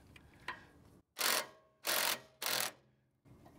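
Wrenches turning a suspension sleeve on a second-generation Toyota 4Runner or Toyota pickup, heard as three loud, close bursts of metallic ratcheting, each lasting about half a second, separated by short pauses, with faint clicks before and after.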